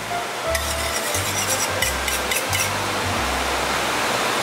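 A metal spoon drags in repeated rough strokes across a wok, scraping up lobster garlic sauce, about five scrapes at an even pace, close and alone against a steady hiss of kitchen noise.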